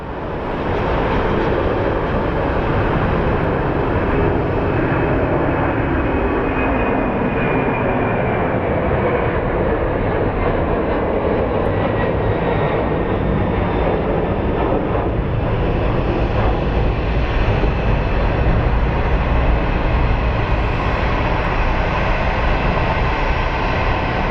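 Jet airliner taking off at Sky Harbor International Airport in Phoenix, a loud, steady broadband roar that holds for the whole stretch with no break and no voices.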